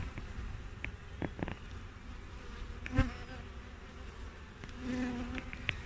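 Honeybees buzz steadily around an opened hive, with individual bees zipping past the listener and a sharper knock midway; no voices.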